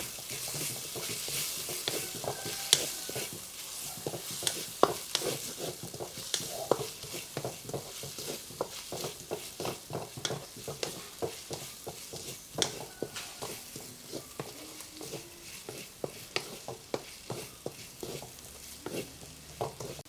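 Tomatoes sizzle in a hot pan for a soya chunks curry while a spatula stirs them with steady, close scraping clicks over a continuous frying hiss.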